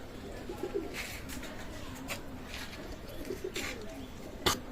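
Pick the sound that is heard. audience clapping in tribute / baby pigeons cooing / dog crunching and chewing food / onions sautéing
baby pigeons cooing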